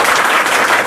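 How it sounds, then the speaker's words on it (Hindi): Loud, dense applause from an audience at a school award ceremony honouring a class 10th or 12th student, steady and close throughout the short burst with no talk over it. "एक बार जोरदार ताली हो जाए इनके नाम पर।"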